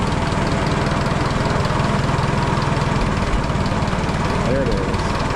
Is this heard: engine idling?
yes